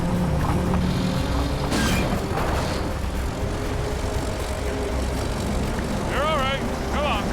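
A Caterpillar D9 bulldozer pulls on a 1.5-inch cable with its 140,000 pound capacity winch under throttle. The engine gives a loud, steady, continuous roar for the whole stretch, with brief voices and a whine rising near the end.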